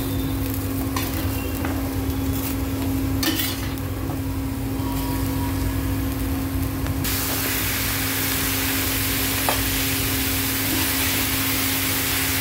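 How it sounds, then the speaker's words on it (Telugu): Ridge gourd pieces dropped into a hot frying pan with browned chillies, giving a steady loud sizzle and hiss that swells into a broader, brighter frying roar partway through, with no talking. "ఇప్పుడు బీరకాయ కట్ చేసుకున్న బీరకాయ ముక్కలు వేయాలి ఇందులో."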